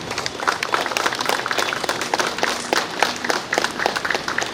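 An audience at a village Independence Day celebration claps together in a dense, sustained round of applause with sharp, irregular claps, fairly close and steady throughout.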